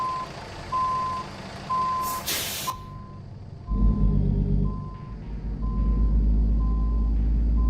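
In American Truck Simulator, a truck's reversing alarm beeps in steady repeated tones, then an air brake hisses and the engine rumbles louder as the truck moves.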